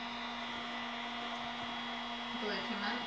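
Hot air tool heating the glued seams of a Voltron Paladin cosplay helmet: a steady, loud whooshing blower hum with a constant tonal whine, running unbroken throughout.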